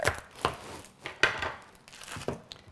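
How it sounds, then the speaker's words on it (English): Knife chops through a block of clear melt and pour soap, cutting it into small pieces with about six crisp, separate cuts in a steady rhythm. "So first we're just going to chop this down into small pieces"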